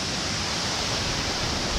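Tall waterfall in lush Hawaiian vegetation, heard as a steady, dense broadband roar of falling water with no breaks and no talk.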